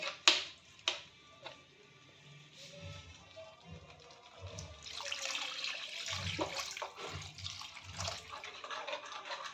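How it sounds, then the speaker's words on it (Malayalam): Water is poured into a cooking pot for a chilli and coconut milk fish curry, starting with a few clinks and taps before a steady close pouring rush fills the rest. "ആദ്യം കുറച്ച് വെള്ളം നമ്മൾ ഒഴിച്ച് കൊടുക്കാവുള്ളൂ."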